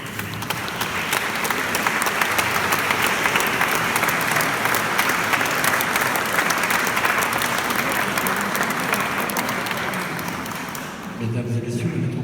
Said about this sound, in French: vous devriez vous applaudir, Montpellier